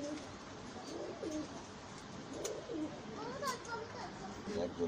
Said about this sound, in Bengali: তো এই যে আরেকটা হাই ফ্লায়ার কবুতর,